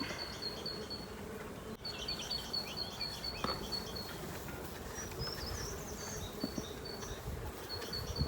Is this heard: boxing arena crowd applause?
no